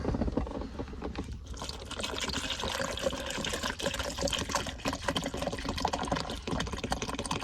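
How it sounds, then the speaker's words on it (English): Water is poured into a drink in a steady, close, moderately loud stream that splashes and gurgles the whole time, with no talking. "So I'll throw some water in that."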